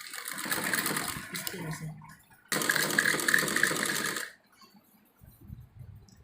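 A sewing machine stitches salwar seams in two loud, close bursts of running of about two seconds each, followed by a brief spoken voice.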